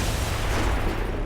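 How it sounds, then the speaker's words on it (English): A loud explosion in the video game XCOM 2: War of the Chosen fills the moment as a dense, rumbling, broadband blast that rolls on steadily without a break. "the loud explosion draws even more Lost"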